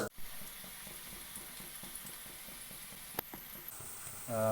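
Oil heats in a pan for leta polu, giving a quiet, steady sizzle with faint crackles and a brief tap partway through.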